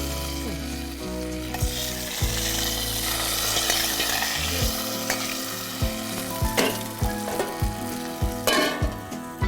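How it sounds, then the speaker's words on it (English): Hot tadka sizzles and crackles loudly as it is poured into khapli wheat sheera sweetened with jaggery, followed by repeated scraping stirs in the pan. "So I'm adding the tadka now."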